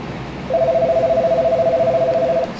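A telephone keypad tone sounds as a number is dialed, one clear steady beep lasting about two seconds over quiet background.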